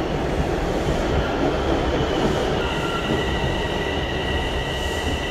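A subway train in Toronto running on the rails, with a loud, steady rushing rumble and a faint high wheel squeal partway through, close and continuous throughout.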